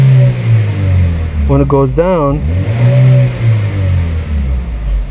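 A 2017 Chevy Malibu with a stuck-on engine oil pressure control solenoid valve idles, then snaps to full throttle in a short rev that climbs and falls back. Someone talks over the steady idle.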